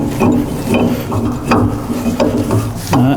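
A heavy filter bowl on a Pall Athalon unit being screwed onto its thread, with repeated close metallic scrapes, clicks and grinding knocks in an uneven rhythm, and brief voices mixed in.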